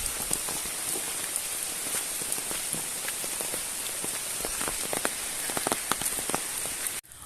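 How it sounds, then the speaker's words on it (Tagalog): Steady rain patters densely on surfaces in Daraitan, Tanay, Rizal, a constant hiss with individual drops tapping through it, close by and uninterrupted until it cuts off abruptly. "Ayan na, umuulan na dito."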